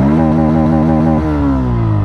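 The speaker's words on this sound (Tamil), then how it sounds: "ஸோ இதை த்ராட்டில் பண்ணுறேன், சவுண்ட் கேளுங்க." Loud, close Bajaj Pulsar 160 motorcycle engine revving at full throttle with a throaty buzzing drone, steady at first and then sagging slightly lower partway through. No voices.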